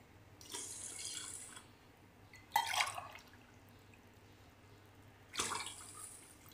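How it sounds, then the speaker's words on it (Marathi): Water poured from a glass into washed rice in a pot, with three separate splashing pours over a quiet room hum, close by and moderately loud. "मी 1 ग्लास तांदूळ घेतले तर 2 ग्लास पाणी ओतते याच्यामध्ये"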